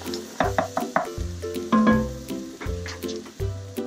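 Onions and garlic sizzling in a pan while cooking down for butternut squash soup, with repeated bursts of frying crackle and stirring sounds close by, alongside a low pulsing patter.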